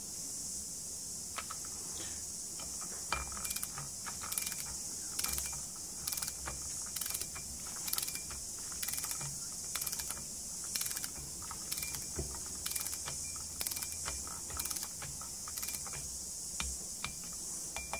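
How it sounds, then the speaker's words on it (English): Torque wrench tightening cylinder head bolts on a Yamaha Viking engine, a run of quick, evenly spaced ratcheting clicks, close and quiet over a bright hiss. "torque wrench."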